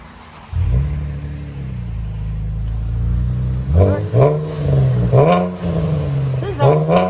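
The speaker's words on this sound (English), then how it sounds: "So we did a muffler delete and a Flowmaster 10 series Outlaws." A Chevy Camaro 3.6L V6, muffler deleted and fitted with Flowmaster 10 Series Outlaw race mufflers, idles with a deep steady drone and then rips through several quick, loud revs, close by, with voices over it.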